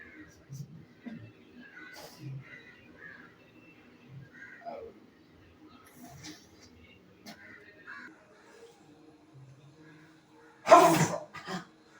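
A single loud, sharp sneeze after sniffing snuff, near the end, following a long stretch of quiet talk and faint background birds.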